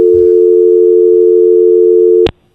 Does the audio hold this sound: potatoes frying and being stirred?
no